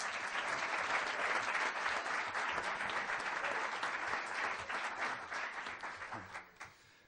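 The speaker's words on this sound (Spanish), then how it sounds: "Un aplauso para Gregorio Panchuelo." Warm applause from an audience at a book presentation for Gregorio Planchuelo's memoir, dense sustained clapping that holds steady for several seconds, then thins out into scattered claps and fades away.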